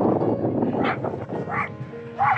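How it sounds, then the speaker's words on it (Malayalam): Dogs in an off-leash dog park yip and bark excitedly at a drone overhead, a few bursts over a busy, continuous background of park noise. "ആ ഡ്രോണിനെ കണ്ടിട്ട് പട്ടികളെല്ലാം ഇളകിയിരിക്കുകയാണ്."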